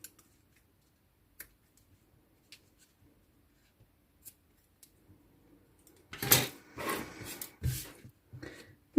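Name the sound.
scissors cutting fabric for a rabbit pencil case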